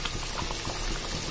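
Jackfruit curry bubbling at a steady rolling boil in a pot after hot water is poured in, a dense close hiss of popping bubbles with no pauses and no voices.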